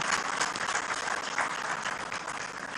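An audience at a groundbreaking ceremony for a research lab in Hyderabad claps steadily, a dense, even patter of many hands that keeps going for the whole stretch without talk over it.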